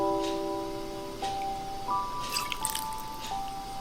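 Cooking wine poured into a chicken marinade with ginger and garlic for Taiwanese fried chicken, heard as soft drips and a brief liquid splash near the end, close and fairly quiet.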